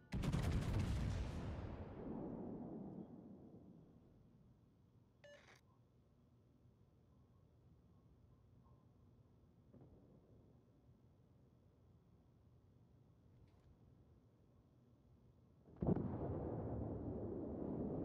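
Artillery fire on a designated target in a video game: a single loud, deep boom opens and rolls away over a few seconds, a long quiet stretch with faint tones follows, then another heavy rumble starts near the end.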